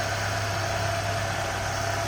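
A 1993 Ford Mustang LX convertible with the 2.3 liter four-cylinder idles steadily, a close, even hum with a low constant tone, heard alone without voices.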